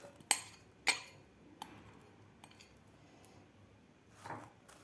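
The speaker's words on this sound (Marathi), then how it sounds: "आता व्यवस्थित हे भाज्या मखाण्यामध्ये मिक्स करायच्या आहेत." A spoon stirs vegetables into roasted makhana (fox nuts) in a bowl: two sharp, close clinks, a few softer taps, then a faint rustle, all quiet with no voices.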